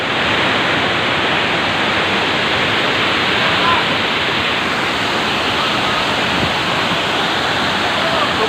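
Waterfall at Pola Tebu in North Sumatra, a loud, steady roar of falling water that fills the whole stretch without letup.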